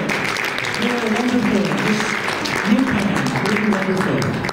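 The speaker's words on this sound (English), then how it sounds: "give yourselves a round of applause" An audience at a panel discussion on environmental organizations and activism applauds steadily. Voices talk over the continuous clapping.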